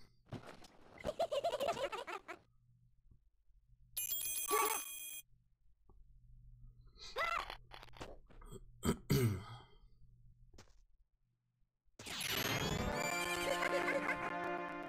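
A horse in Zelda: Majora's Mask 3D gives a loud, shrill neigh among other bright game sounds, with scattered noises, brief pauses and a burst of tonal effects near the end.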